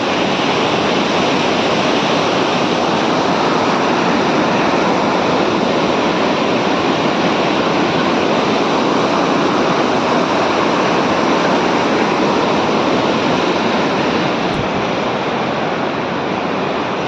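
Loud, steady roar of rushing water at Jog Falls, dense and continuous throughout with no pauses, close and overwhelming.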